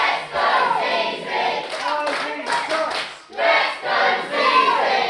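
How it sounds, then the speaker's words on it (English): A crowd at a women's wrestling show cheers and claps, shouting voices rising and falling in waves with a brief lull partway through, fairly loud and close. "The crowd cheering her on"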